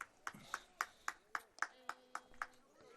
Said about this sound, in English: Got one clap from over there.